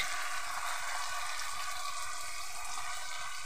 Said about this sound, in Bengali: সব সসগুলোকে ভালো করে একটু কষিয়ে নেব